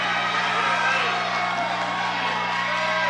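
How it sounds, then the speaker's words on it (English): Crowd at a Fury FC mixed martial arts co-main event fight cheering, whooping and shouting loudly and steadily throughout, a dense continuous roar of many voices. "this crowd is going crazy here"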